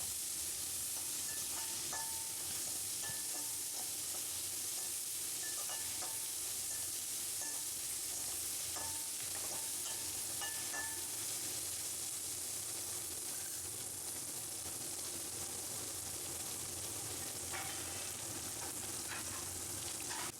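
Onions sauté in oil in a pan for a spring onion gravy, giving a soft, steady sizzle with occasional stirring scrapes and taps of a utensil, and no voices.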